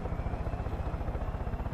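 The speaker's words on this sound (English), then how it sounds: "Helicopter. Let me get in this bitch." Helicopter in the video game Far Cry 5, a steady rapid rotor thump throbbing continuously at an even pulse, fairly quiet and alone with no talk.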